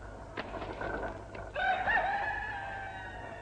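A rooster crows once, loud and fairly close, following some softer rustling and clucking sounds in a quiet room.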